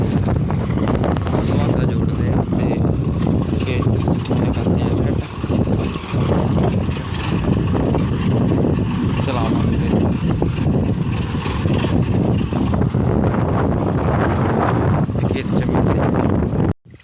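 Strong wind buffets the microphone in an open field during tractor work with a planking harrow, a steady loud roar rumbling throughout, with a tractor engine running underneath and a voice talking at times.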